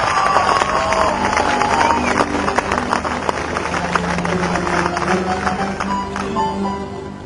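A live show audience claps and cheers in a steady, loud crowd roar before a song starts, with tonal stage sound and scattered voices mixed through the din.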